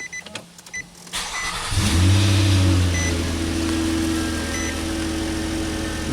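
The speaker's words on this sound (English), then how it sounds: "so let's start the car" A Nissan Murano, whose battery light and check engine light stay on and which has a low power complaint, cranks briefly, fires up and settles into a steady, close engine idle after a few quiet clicks.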